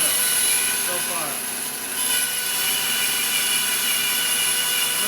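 A hand saw rips steadily through wood close to the target thickness in a workshop, a continuous close rasping stroke sound that dips briefly before resuming.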